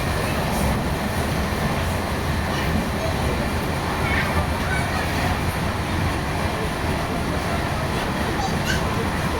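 Inside a general compartment of the Amrit Bharat Express train No. 16597, running between SMVT Bengaluru and Alipurduar, a steady, loud rolling rumble and rattle of the moving coach fills the space continuously.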